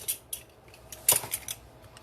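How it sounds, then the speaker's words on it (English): Dry cake ingredients, cocoa, baking soda and baking powder, are stirred in a bowl, giving a few light scrapes and taps, faint and close, with short pauses between strokes. "Mixing all our dry ingredients"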